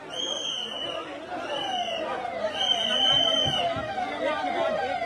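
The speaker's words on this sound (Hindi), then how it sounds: "एक के बाद एक लगातार एम्बुलेंस आ रहा है" Ambulances pass one after another at a crowded Maha Kumbh gathering, their siren a repeated high wailing tone that rises and falls over steady crowd chatter and general hubbub.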